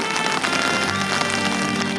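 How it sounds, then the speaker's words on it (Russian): Dense swarm of midges in the Arctic tundra, their steady massed buzzing hissing and pattering like continuous rain, close and loud throughout with no voices. "Это не дождь, это мошка."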